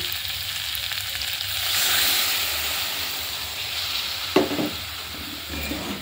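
Snail and potato curry sizzles steadily in a pan, with a sharp burst of hissing about two-thirds through as water is added and the sizzle continues.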